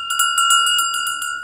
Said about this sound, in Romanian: Ia ce clopot am pus.